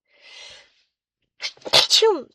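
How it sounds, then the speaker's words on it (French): A single sharp human sneeze bursts out close to the microphone after a soft breathy intake, loud and abrupt with a quick tail. "je vais éternuer ou pas?"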